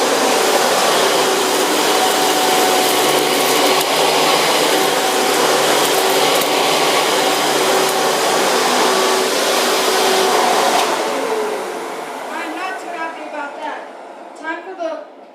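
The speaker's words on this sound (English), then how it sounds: "Kind of feels weird to use this vacuum again." A Hoover backless twin chamber vacuum cleaner runs with a loud, steady, close whine and roar for most of the stretch, then shuts off and winds down as people talk over the quieter tail.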